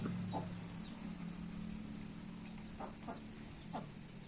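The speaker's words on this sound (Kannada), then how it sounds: "ನಮ್ಮ ನಾಗಪ್ಪರು ಕೋಳಿ ಒಡ್ಸಿದಾರೆ" Chickens give a few faint, scattered clucks over a steady background hum, distant and quiet.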